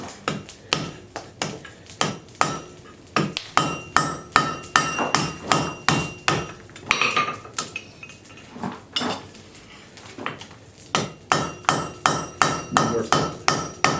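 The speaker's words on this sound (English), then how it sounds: "use the flat part of the hammer for this as I'm working along." A hammer's flat face forging a steel railroad spike into a tool hanger on an anvil: loud, sharp metallic blows in rapid rhythmic bursts, each strike ringing briefly, with short pauses between runs and no talk.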